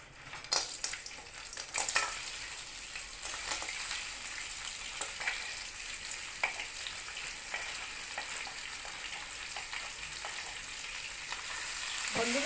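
Crabs sizzle in hot mustard oil in a wok, a loud steady frying hiss with occasional stirring clatters and scrapes running throughout, close and without speech.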